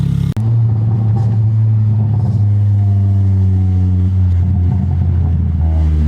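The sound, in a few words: Honda Accord with cat-back exhaust driving, exhaust pops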